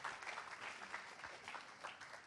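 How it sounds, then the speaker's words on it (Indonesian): A seminar audience bursts into warm applause to welcome a speaker, a steady dense patter of many hands clapping, fairly faint and distant, continuing without talk. "mari kita berikan sambutan tepuk tangan yang paling meriah"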